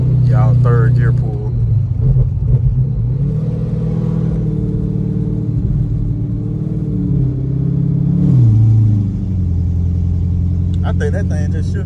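C6 Corvette with headers accelerating in third gear, a loud continuous engine rumble rising in pitch as it revs, with talking over the start and end.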